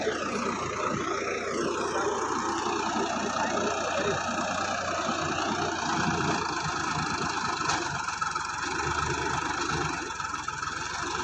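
A tractor engine runs steadily and loudly nearby in a farm field, a continuous droning rumble with no talk.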